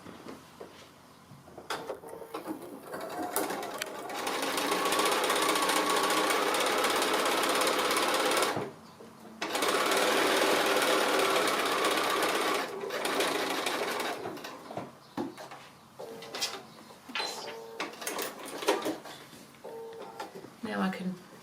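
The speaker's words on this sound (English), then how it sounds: "now I'm going to stitch on that same stitching line where we put the flange on all the way along there" Sewing machine stitching along the flange line of a Christmas table napkin: a long, steady, close mechanical whir, paused once, then running again before fading into quieter handling noise, with a voice speaking at times.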